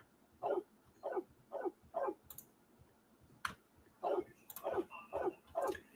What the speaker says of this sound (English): There is a dog in the village. You can hear it barking.